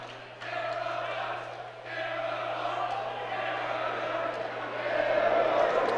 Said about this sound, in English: Two schools cheering back and forth.